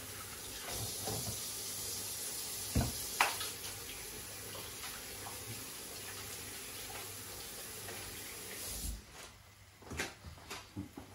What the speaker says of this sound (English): Just give my hands a rinse again.